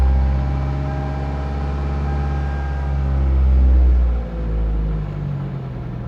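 A Toyota Celica with misfire and lean-condition faults idles roughly close up, a heavy low engine rumble that swells, dips abruptly as if about to stall, then recovers unevenly.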